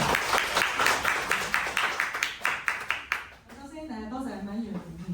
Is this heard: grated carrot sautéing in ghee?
no